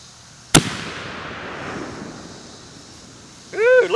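A mini cannon fires a projectile at a target with a single sharp, loud bang close by. The blast decays into a short rumble, and a voice exclaims a few seconds later.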